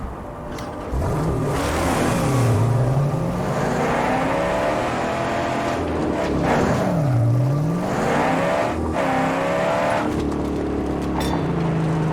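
Car engine revving and shifting pitch as a vehicle drives across open terrain in Mad Max, loud and steady, rising and falling through repeated acceleration swoops with no voices.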